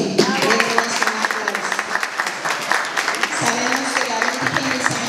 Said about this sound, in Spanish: Vamos a darles un fuerte aplauso a los que nos están representando como la Virgen y San José.